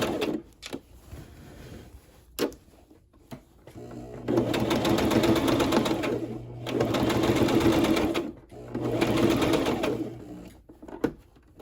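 A sewing machine stitches fabric for a skirt in three steady, loud runs of a few seconds each, separated by brief pauses with scattered handling clicks, including a reverse pass to lock the thread.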